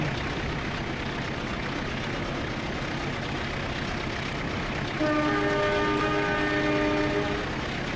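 A Sancaka Utara passenger train in the Trainz railway simulator rolls along with a steady loud rumble of wheels and carriages, then a sustained multi-tone horn sounds over it for the last few seconds.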